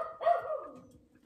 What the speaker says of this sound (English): My dog is barking still.